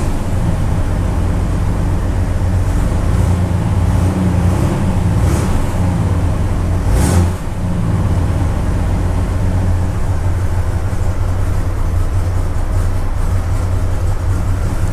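A Jeep Wrangler YJ engine idles while cold, giving a steady, close, low rumble that runs without a break for the whole stretch, with no voices over it.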